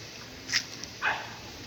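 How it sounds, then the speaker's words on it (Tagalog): Two short dog barks sound some distance away, half a second apart, over a steady windy hiss. "Na naman yung mga aso na ito."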